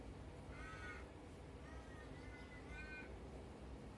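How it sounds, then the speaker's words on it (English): A crow caws in short, harsh calls, three distinct bursts spaced across a few seconds, faint and somewhat distant over a low rumbling background. "I didn't realise that the crow was coming through so loudly."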